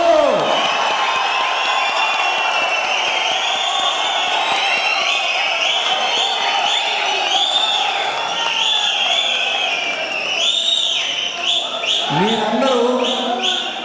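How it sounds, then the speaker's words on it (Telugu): A crowd at an employees' union assembly cheers, whoops and claps loudly and continuously, with a fresh burst of cheering near the end. "మీరందరూ చప్పట్లు కొడుతుంటే ఒళ్ళు చల్లరిస్తుంది."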